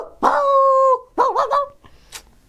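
A man mimics a big dog, giving a long, drawn-out bark-howl and then a wavering, throaty second call, loud and close, with a faint trailing yip at the end.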